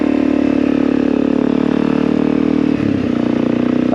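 A motorcycle rides along with a steady, loud engine drone and a smooth, sustained hum that dips slightly near the end.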